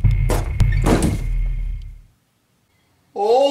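A door shuts with a couple of solid thunks and a low rumble that fades over about two seconds. Silence follows, then a brief tonal, voice-like sound.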